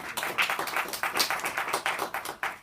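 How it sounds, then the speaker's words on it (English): Applause from an audience at a health chat event, thanking the sponsors: a short run of fairly faint, distinct hand claps in an uneven rhythm, with no talking over it. "big round of applause for our sponsors"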